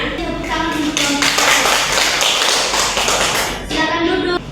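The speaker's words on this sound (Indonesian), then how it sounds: "Tepuk tangan untuk kelompok" Classroom applause for a student group, a burst of many hands clapping close by, loud and steady, with children's voices talking before and after.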